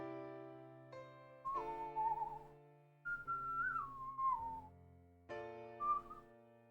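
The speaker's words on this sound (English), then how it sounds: "if you're new to the channel, I whistle" A person whistles a tune in clear sliding phrases, up close over a soft sustained musical backing, with short gaps between the phrases.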